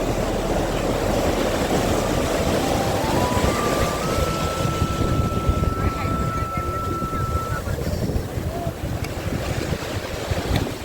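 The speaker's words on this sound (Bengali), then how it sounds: "প্রচুর বাতাস এই বিচে, প্রচুর বাতাস" Strong wind buffets the microphone in a steady roar on Patuartek beach at Cox's Bazar, with surf and rushing air filling the background and a faint rising tone partway through.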